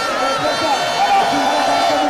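A dense crowd at a mass rally on Place de la Révolution in Ouagadougou keeps up a steady, loud wash of many overlapping voices and chanting tones, continuous throughout with no pauses.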